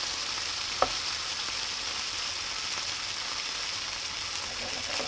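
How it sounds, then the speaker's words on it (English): A Mountain Dew grilled cheese sandwich toasting in a pan, giving a steady soft sizzle throughout with one small tap near the start, no voices. "just toast it like a normal toasted sandwich"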